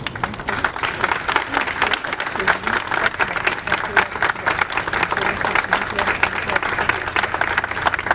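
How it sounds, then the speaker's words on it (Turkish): A crowd at an outdoor protest by a hospital applauds scientists, loud, dense clapping with crowd noise that keeps a constant, busy texture for the whole stretch. "Buradan bu bilim insanlarına kocaman bir alkış rica ediyorum."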